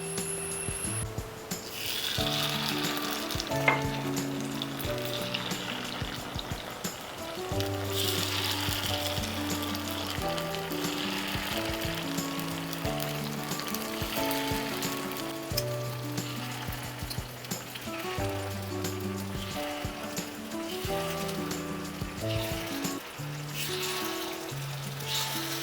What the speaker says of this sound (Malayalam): ഇപ്പം ചട്ടി ഒന്ന് നന്നായി ചൂടായി വന്നിട്ട് നമുക്കിനി ഒഴിച്ചു കൊടുക്കാം.